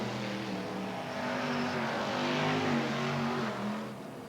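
BriSCA F1 stock cars race at Kings Lynn in a 1996 semi-final, engines droning and revving together in a steady, rising and falling roar heard from trackside at moderate distance.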